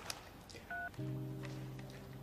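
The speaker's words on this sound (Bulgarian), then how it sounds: "Моля, оставете съобщение след сигнала." An answering-machine beep sounds after a short two-tone blip, then holds as a steady electronic tone for over a second, alone with no talk.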